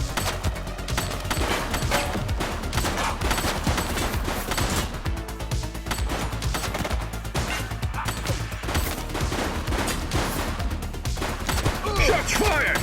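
Dense, continuous gunfire from The Precinct on PS5 Pro, rapid overlapping shots and crashes holding a steady loud level across the whole stretch, with a voice faintly mixed in.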